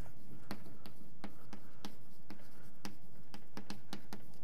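Writing on a board gives a series of sharp, evenly spaced taps and short scratches, about a dozen strokes, close and clear over a faint room hum.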